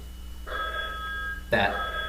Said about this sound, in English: Phone ringing in the background.